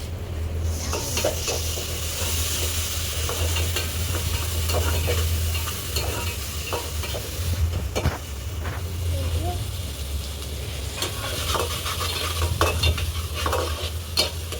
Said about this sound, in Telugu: అల్లం వెల్లిపాయ పేస్ట్ పచ్చివాసన పోయేటట్టు వేయించుకోవాలి